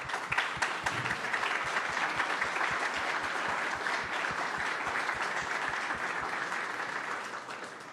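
Audience applause at a summer program demo day, a full room clapping steadily throughout, with a faint regular low thump beating underneath.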